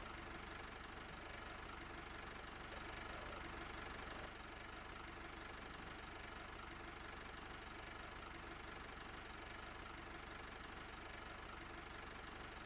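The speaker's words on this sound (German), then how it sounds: "Ich starte mal die Maschine." A farm machine engine in Landwirtschafts-Simulator 17 runs with a steady, even droning rumble throughout, close and continuous, with no talk.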